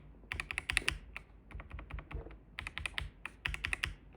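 Logitech K98M mechanical keyboard keys with Marble, Soda and Air switches clack in quick bursts of typing, crisp and close, with short pauses between runs of keystrokes.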